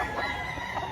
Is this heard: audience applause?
no